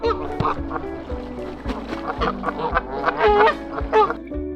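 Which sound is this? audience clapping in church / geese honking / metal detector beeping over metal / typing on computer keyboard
geese honking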